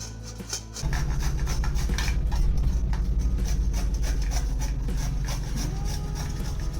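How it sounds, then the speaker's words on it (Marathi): Fresh turmeric root is rubbed against a hand grater in rapid, repeated rasping strokes, close and steady for several seconds after a brief quiet start. "किसणीच्या सहाय्याने मी ही सगळी हळद किसून घेणार आहे"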